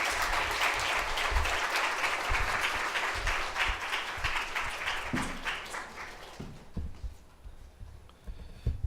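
Sustained applause from a church congregation welcoming a pastor and an elder to the front, a dense, loud wash of clapping that thins out and fades near the end, leaving a few scattered claps and shuffles.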